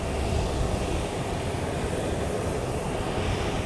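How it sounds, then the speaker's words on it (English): Steady broadband roar of a C-17 Globemaster military transport aircraft, a constant loud engine rumble with no breaks and no voices. "entire motorcade is often transported in a massive C-17 Globemaster aircraft"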